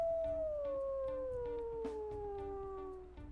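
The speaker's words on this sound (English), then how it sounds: "Oh, and he shares that howl with his brother." A wolf pup howls in the video game WolfQuest: one long, soft, sustained note that slides slowly downward and fades out over about three seconds. It sounds close, over a faint low background hum.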